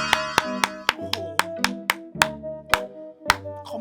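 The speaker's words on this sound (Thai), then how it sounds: "ปรบมือ" Hand claps ring out one after another, sharp close and loud, about a dozen in under four seconds with a loose uneven rhythm over a soft background tone.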